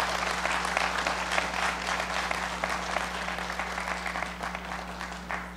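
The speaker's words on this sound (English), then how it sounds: "So let's give them a round of applause." Applause from a meeting audience honoring the Housing Authority board and staff, moderate clapping over a steady low electrical hum, gradually thinning toward the end.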